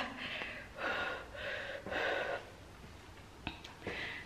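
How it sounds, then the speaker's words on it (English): Fast, heavy breathing right after a gym workout, a run of loud ragged gasps and panting breaths in quick rhythm, close to the mic with no talking. "See the way I'm breathing fast."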